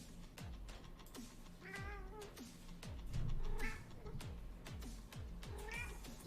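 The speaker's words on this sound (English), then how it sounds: "Y'all can finally hear her meow." A cat meows several times in short, rising cries spread across the clip, close by, with some thumping and household noise underneath.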